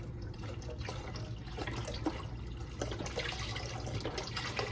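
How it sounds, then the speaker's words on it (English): Chicken broth pours into a pot of homemade chicken and noodles, a quiet, steady splashing liquid stream with a faint hum beneath, heard alone at low level. "And I'm gonna add some chicken broth."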